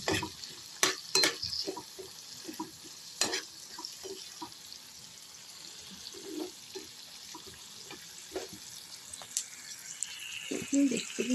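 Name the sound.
chopped tomato added to frying okra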